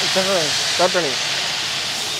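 Ginger, garlic and chili chutney hitting hot oil as a tadka for pav bhaji gives a steady hiss that fills the whole stretch, with a voice speaking briefly over it near the start.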